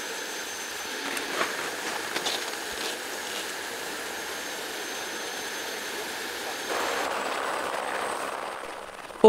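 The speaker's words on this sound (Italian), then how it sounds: "l'equipaggio dell'elicottero si sta preparando per il decollo." A steady helicopter engine whine and rotor drone fills the scene as the crew prepares for takeoff in an icy landscape, growing louder toward the end.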